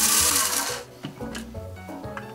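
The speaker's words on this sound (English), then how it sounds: "Gonna carefully put it into my spice grinder." A spice grinder whirs loudly and close as it grinds toasted rice, then the noise fades into quieter mechanical rubbing and a few knocks.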